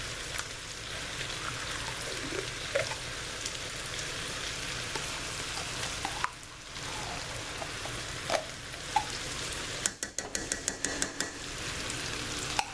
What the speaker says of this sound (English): I'm going to get my big spoon. I'm going to stir that in.